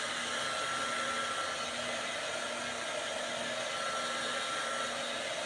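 A heat tool blows a steady, close, loud stream of hot air over fresh paint on a shirt, an unbroken roar and hiss that holds level throughout with no voices.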